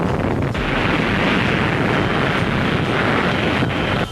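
Underwater atomic bomb explosion from the Test Baker detonation just below the water's surface near moored vessels: a loud, continuous broadband roar and rumble that holds steady throughout without a break.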